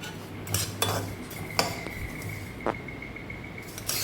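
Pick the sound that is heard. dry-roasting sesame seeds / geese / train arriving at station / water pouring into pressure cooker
dry-roasting sesame seeds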